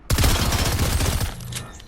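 Gunfire in Fortnite Chapter 2 Season 3, a rapid burst of loud, close shots lasting about a second, then a short ringing tail fading out.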